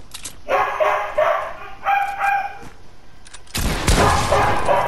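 A dog barks a few times in a video game during a multiplayer match, the barks sharp and close and mixed with game effects, followed by a loud burst of noisy action.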